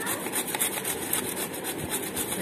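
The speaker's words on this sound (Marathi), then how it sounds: "आपण किसणीच्या जाड साईडनं किसून घेणार आहोत" Cucumber rasped against the coarse side of a kitchen grater for a fasting-day salad, a steady rapid scraping rhythm of repeated strokes, close and fairly loud, with no talking.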